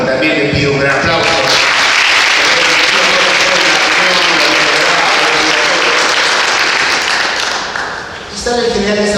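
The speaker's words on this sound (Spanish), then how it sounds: "también le pido un gran aplauso" A political event audience breaks into loud, sustained applause, a dense wash of many clapping hands that carries on for several seconds before dipping briefly and picking up again near the end.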